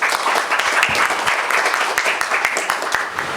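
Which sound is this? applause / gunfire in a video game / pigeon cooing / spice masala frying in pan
applause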